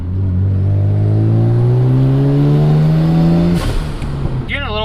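Mazda RX-7 FD rotary engine revving hard while driving, a loud steady rising drone that climbs in pitch for several seconds, then drops off abruptly as another rise begins.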